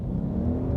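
Ford Mustang GT and Genesis G70 accelerating hard at full throttle in a roll race from 50 km/h, a steady loud low engine roar that holds even and close for under a second.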